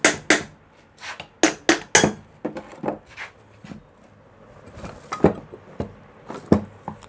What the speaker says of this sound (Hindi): तो इसको खोलने के लिए आपको सिंपली हथौड़ी से ऐसे मार देंगे तो निकल जाएगा ये।